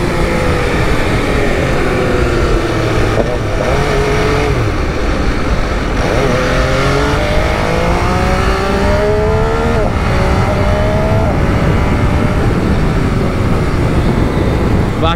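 An MV Agusta motorcycle revving hard under throttle, with loud, close engine roar sweeping up and down through repeated rising pitch climbs, steady and alone without talk.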